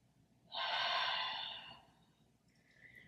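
A single deep, breathy inhale and exhale during a prenatal exercise class, close and soft, rising quickly and then fading over about a second and a half in a quiet room.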